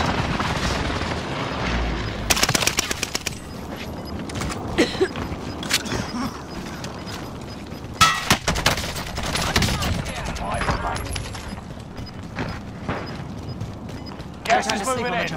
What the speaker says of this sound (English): Enemy precision airstrike. Stay alert.